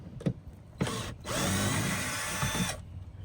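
Power drill whirring against a 1997 Chevy Astro van during a build, with two short bursts and then a sustained, loud close-up run before it stops.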